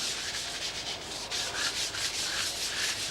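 A scrubbing brush rubs back and forth across a floor in steady, rhythmic strokes, a close, faint, hissing scrape repeating alone without any talk.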